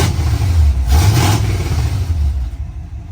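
Loud close revving from a truck with a 305 engine, throaty low rumble surging in two pushes then settling toward idle, no talking.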